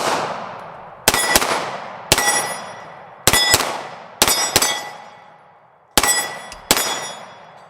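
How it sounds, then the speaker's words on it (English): Pistol shots from a Girsan Regard MC or Beretta 92FS 9mm fired at a range, seven sharp loud reports in irregular pairs and singles, each ringing out with a metallic decay. "Let's take a few shots with this."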